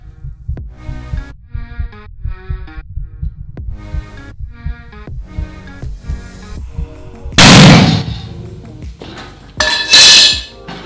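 A rice puffing cannon is fired with a lever into a special bag: after a stretch of rhythmic clinking and thumping, a sudden loud burst of blasting hiss erupts, followed by a second sharp burst.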